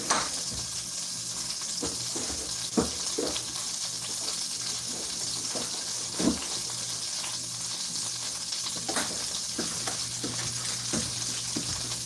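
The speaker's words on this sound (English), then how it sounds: "The toast is cooking." Toast cooks in a home kitchen pan, giving a steady, close hiss with scattered crackles and pops running under the whole stretch, no talking over it.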